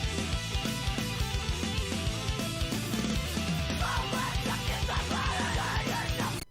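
Fast, noodly post-hardcore guitar lines play over a full band mix with drums, dense and continuous, cutting off at the very end.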